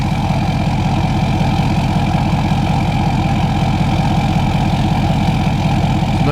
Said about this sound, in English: it made the engine sound like way louder